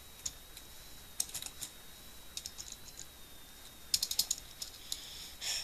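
Keys clacking on a computer keyboard as code is typed, bursts of quick faint taps separated by short pauses, with no talking.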